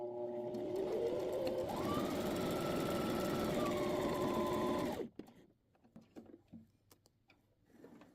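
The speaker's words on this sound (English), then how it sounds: "Put my needle in the middle and start stitching." An electric sewing machine stitches fabric for a bingo bag with a loud, steady whirring drone that shifts pitch midway and cuts off after about five seconds, followed by soft handling noises.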